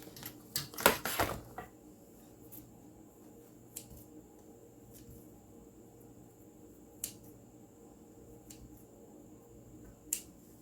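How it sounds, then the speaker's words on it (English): An old metal Bundt pan is set down on a cookie sheet with a sharp clatter and a few quick knocks near the start, followed by faint isolated taps against a quiet room. "I'm going to lay this Bunt pan on a cookie sheet for easy oven retrieval"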